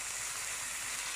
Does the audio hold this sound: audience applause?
no